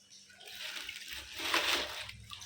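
Water pours and splashes into a home fish aquarium being cleaned, a brief close rushing gush that swells and then eases.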